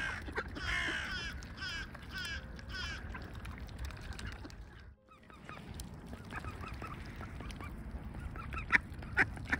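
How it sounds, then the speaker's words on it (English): Crows cawing in a December outdoor spot alongside swans, ducks and seagulls, repeated harsh calls at middle distance over a busy layer of other bird noise, with a brief lull midway. "Especially the crows."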